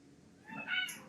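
A cat gives a single short, faint meow in a quiet kitchen, rising and then fading within about a second.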